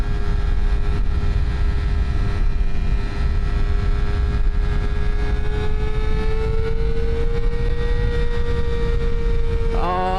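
Kawasaki ZX-4RR motorcycle engine held at high revs while riding, a loud sustained whine that climbs slightly in pitch, with strong wind rush underneath and a quick sharp rise at the very end.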